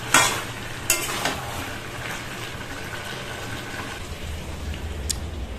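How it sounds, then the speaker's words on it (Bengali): Chicken for biryani cooking in a pan without turmeric, with a soft continuous sizzle and frying crackle, a few sharp clicks of a spoon stirring against the pan near the start and end, fairly quiet and with no voices. "চিকেন বিরিয়ানির জন্য আমি চিকেনটা এবার রান্না করছি"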